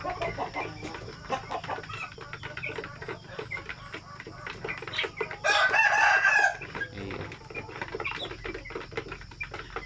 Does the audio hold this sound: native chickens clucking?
yes